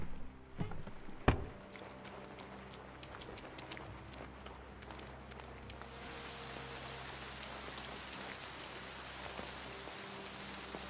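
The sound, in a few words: heavy rain falling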